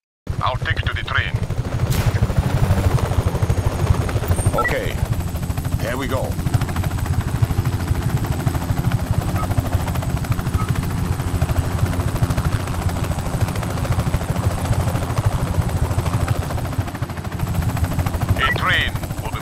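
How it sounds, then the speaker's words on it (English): A helicopter engine in Just Cause 3 on PS5 keeps up a loud, steady rotor drone the whole way through, while someone talks briefly over it. "Can you fly the helicopter?"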